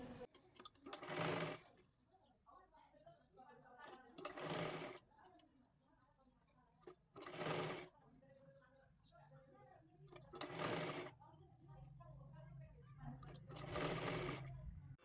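Sewing machine stitching the folded triangular edge of a boat neck blouse in fabric, running in five loud bursts of about a second each, separated by quieter gaps of handling and low background sound.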